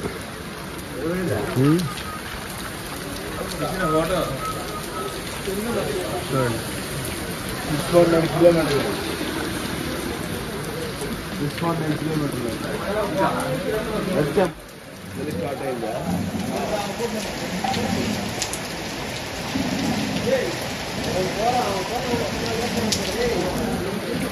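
Steady heavy rain hisses throughout, a dense unbroken wash of sound, with people talking over it at times.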